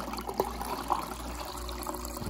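Water running from an LG refrigerator dispenser into a glass after a filter change, a soft, quiet trickle with a few small splashes.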